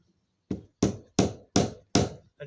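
A wooden plug is tapped down into a drilled hole with six sharp, evenly spaced knocks, each ringing briefly and rising slightly in pitch as the plug seats tight.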